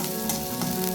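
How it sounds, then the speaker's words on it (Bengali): Sliced onions and dried red chillies sizzle steadily in hot oil in a pan, a close, even frying hiss with no voices. "পেঁয়াজ আর শুকনো লঙ্কাটা ভালোভাবে ভাজা হয়ে গেছে।"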